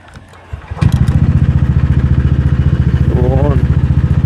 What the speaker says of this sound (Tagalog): Andar na yung motor nyo.